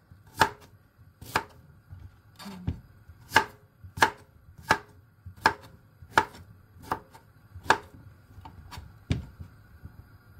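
A knife cuts a peeled sweet potato (kamote) into zigzag slices on a board, making about a dozen crisp, evenly spaced chops, close and clear with no talking.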